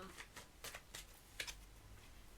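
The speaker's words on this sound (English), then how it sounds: "let's shuffle because a few cards fell out" Tarot cards being shuffled by hand during a reading, a series of quick riffling bursts at moderate loudness with a faint background murmur.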